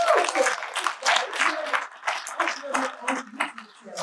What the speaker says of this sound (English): I give it a big round of applause.